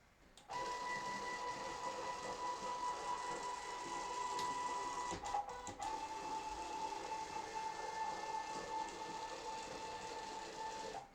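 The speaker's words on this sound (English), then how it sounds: "we're going to do a dry run print to see how this printer does with this driver" A 3D printer's stepper motors whir through a dry run print of a calibration cube, a steady, fairly quiet mechanical hum with a constant tone and brief stutters, no voices.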